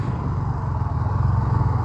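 Motorcycle engine idling or rolling slowly on arrival in São Joaquim do Monte, Pernambuco, Brazil, a steady low rumble with a throbbing pulse, close and continuous.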